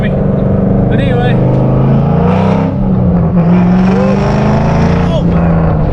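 A Ford Mustang GT with a manual gearbox and an aftermarket two-step, its V8 droning loud and close under the cabin as it pulls away, while someone talks over the engine throughout.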